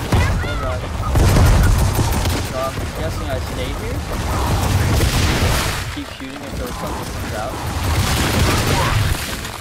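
Gears of War 4 gunfire fills a boss fight with dense, continuous bursts and heavy booms in waves. Voices talk over the shooting.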